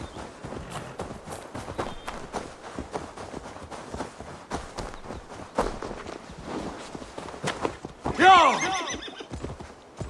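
Hooves clip-clop at a steady walking pace on a hard surface, close by, and a horse whinnies near the end, in the video game Assassin's Creed Valhalla.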